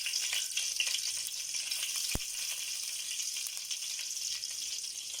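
Cumin, cinnamon, star anise, cloves, peppercorns, cardamom and a dried red chilli fry in oil with a steady, moderately quiet sizzle, broken once by a single sharp click.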